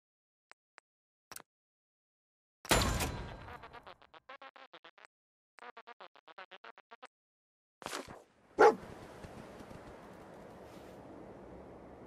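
Dogmeat, the dog companion in Fallout 4, barks in short bursts and then a quick run of yips. A sharp loud burst follows, and steady game ambience continues beneath.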